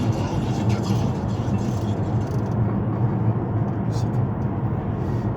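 A car driving along a road near Bièvre, with steady broadband road and engine rumble throughout, fairly close and constant, mixed with faint background music.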